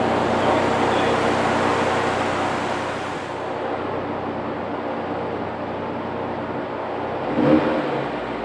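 Car engine on a dyno with the exhaust open, a loud sustained roar through the first few seconds that eases to a steadier drone, with a brief thump near the end.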